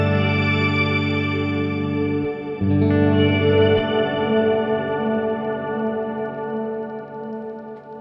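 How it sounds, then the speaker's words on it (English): A guitar chord rings through the shimmer setting of a BOSS RV-6 reverb pedal, restruck once and left to sustain in a bright, layered wash that slowly fades, with no voices. "This next one is the shimmer reverb."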